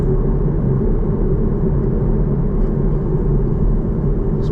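Chevrolet Camaro with a 455-horsepower LT1 V8 cruising, heard from inside the car as a steady, loud low engine rumble and road drone with no talk.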